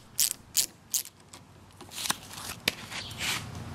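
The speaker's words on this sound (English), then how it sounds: "So now this is the removal of the bar end weight, the external." A Phillips screwdriver works the bar end weight off a Honda CB300F handlebar in a quiet space, giving a few sharp, separate metallic clicks and ratchety scrapes.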